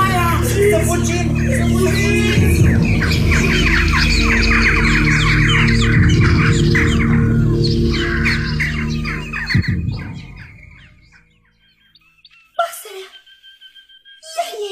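A bird squawks as a sound effect in a 1993 Romanian audio play, harsh repeated calls over a loud dramatic music bed, ending in a few sharp isolated squawks after the music cuts.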